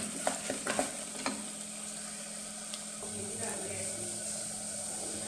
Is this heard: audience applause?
no